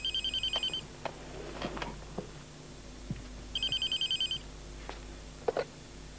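A telephone rings twice in bursts of rapid electronic trills separated by a pause, with faint clicks and background noise between the rings.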